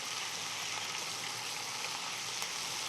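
Crushed garlic and green chillies frying in oil, a steady bright sizzle that holds evenly throughout with no talking.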